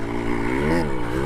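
A small Honda MB5 motorcycle engine hums close by, its buzzy tone rising and falling briefly with the throttle in one short continuous stretch.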